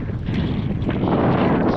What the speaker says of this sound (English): It's a tad bit windy, so hopefully you can hear. I'm trying to shield the microphone.